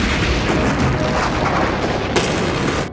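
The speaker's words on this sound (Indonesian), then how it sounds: "membuat monster itu meledak." A monster explodes in a Kamen Rider Kuuga episode, a dense, loud rumbling blast that roars continuously for about three seconds with a sharp burst of crackle near the end.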